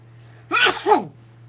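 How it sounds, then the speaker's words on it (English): A single close, loud sneeze from a man, a sharp two-part burst over a faint steady hum, then quiet. "I have a sneeze coming on."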